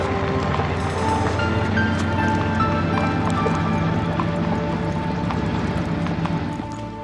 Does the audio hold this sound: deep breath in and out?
no